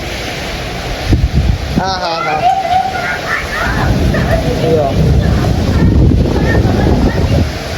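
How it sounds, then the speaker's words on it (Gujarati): A strong windstorm with rain roars as steady broadband wind buffeting and rushing noise through the whole stretch, loud and close, while people talk over it. "જો વાવાઝોડું જોવું આવે જબરજસ્ત વાવાઝોડું આવે"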